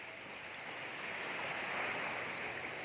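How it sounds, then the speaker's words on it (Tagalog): Calm sea waves at an island, a soft continuous wash of surf with gentle wind, faint and even, with no voices. "napaka tahimik ng dagat guys"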